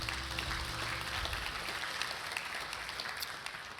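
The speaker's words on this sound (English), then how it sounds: "that deserves a round of applause" Church congregation gives a steady round of applause during a Sunday service, a sustained, fairly distant wash of many hands clapping with no talk over it.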